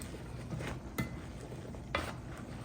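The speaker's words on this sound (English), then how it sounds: "And I'm just going to stir" A spoon stirs salted eggplant stew in a pot with soft wet scraping and a couple of light clinks against the pot, faint and close, with a quiet simmering hiss underneath.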